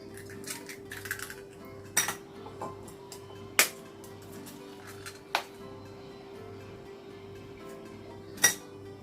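Five eggs being cracked into a bowl for a caramel sponge cake, a series of separate sharp taps and clinks against the bowl rim, spaced a second or two apart over a low steady hum.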